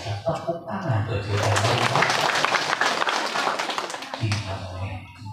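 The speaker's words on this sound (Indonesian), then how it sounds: "luar biasa tepuk tangan tuh" An audience at a religious sermon breaks into a burst of clapping lasting about two seconds, with a voice speaking just before and after it.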